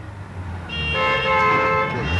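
Car horn in a Paris traffic jam, one sustained tonal honk that starts partway in and holds for over a second over low idling traffic rumble.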